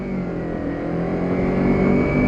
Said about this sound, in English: when you get into that rev range there, you know, the bike really starts to open up, and the sound is pretty awesome